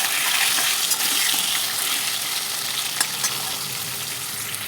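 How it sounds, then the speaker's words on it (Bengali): Potatoes fry in a pan of hot oil with a tempering of radhuni and black cumin seeds, giving a loud, close, continuous sizzle with light crackles and occasional stirring. "আলুগুলো ভালো করে আমি ভেজে নেব।"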